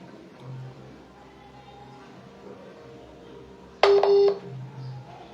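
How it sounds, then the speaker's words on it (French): A telephone network tone during a call: a single loud electronic beep lasting about half a second, abrupt and steady, cutting in over a quiet, hissy line. "The network is busy."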